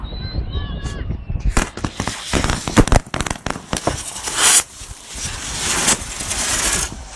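Fireworks salute at a City Day celebration in Pionersk, with a rapid string of sharp bangs and crackles bursting close by, then a sustained fizzing roar, while people shout and talk nearby.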